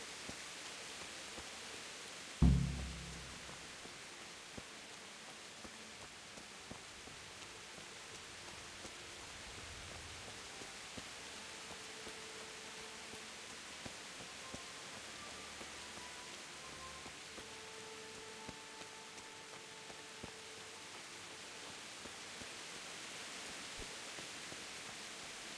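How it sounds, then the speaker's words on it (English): Steady rain hiss fills a town in Kingdom Come: Deliverance, a constant wash of soft noise heard alone, broken early by a single dull thump and a few faint tonal sounds. "Sure is raining a lot here."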